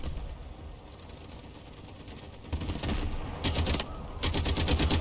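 Gunfire from the Delta Force shooter game begins faint and distant, then rapid automatic bursts grow louder and crackle through the second half, with no voices.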